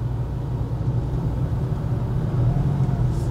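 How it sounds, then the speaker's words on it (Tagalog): Garbage trucks rolling past near Smoky Mountain, a steady low engine rumble and road noise that holds throughout, moderately loud and continuous with no speech over it. "At ito na yung mga truck ng basura."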